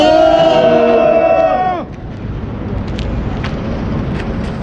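Crowd at an outdoor political rally roaring a loud, drawn-out chorus of shouts and cheers that breaks off abruptly, leaving a noisy murmur of the gathering.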